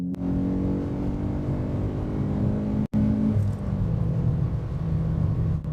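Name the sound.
Citroën Saxo VTS accelerating to overtake two cars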